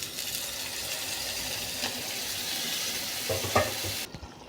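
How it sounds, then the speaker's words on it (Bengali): Lukewarm water goes into pigeon meat frying in a pan, and a steady, fairly quiet hiss and bubbling continues throughout before cutting off abruptly near the end. "এখন আমি কুসুম গরম পানি দিয়ে দিচ্ছি।"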